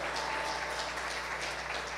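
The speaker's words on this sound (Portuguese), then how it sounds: "Pode aplaudir Jesus mais forte" A church congregation claps in steady, dense applause throughout, moderately loud, with no voices over it.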